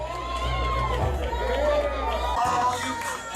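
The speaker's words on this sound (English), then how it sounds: "Let's give a round of applause." Crowd at an underground wrestling show cheering and shouting, a loud continuous roar of voices with a constant low hum underneath throughout.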